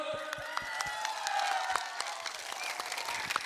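A crowd at a Tipra political rally applauds, scattered claps running steadily and faintly through distant room noise, with no speech.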